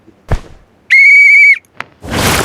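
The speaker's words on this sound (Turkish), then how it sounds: "Şöyle düdüğü çaldığınız zaman malzeme satın al ayağınıza geliyor." A sharp, loud, steady whistle blast in PUBG Mobile, sounded to summon a supply drop, lasting over half a second between short thumps and ending in a burst of noise.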